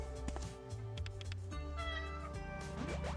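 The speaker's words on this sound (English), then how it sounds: "Good kitty, Fran, good kitty." Cat meowing in the video game A Space for the Unbound, a few short meows over steady game music, moderately loud and close.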